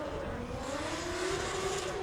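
An E36 BMW Compact drift car with a 1JZ engine screams steadily at high revs during a pro qualifying run at a British Drift Championship round, its rising engine tone sustained and loud over crowd and track noise.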